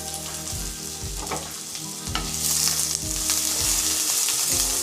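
Sliced onion and curry leaves sauté in hot coconut oil for pepper chicken chukka, a loud, continuous close sizzle that swells toward the end, broken by occasional stirring scrapes, with no voices.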